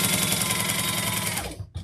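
A sewing machine stitching around the edges of a handbag runs in a steady, loud, fast mechanical whir, close up, then slows and stops briefly near the end.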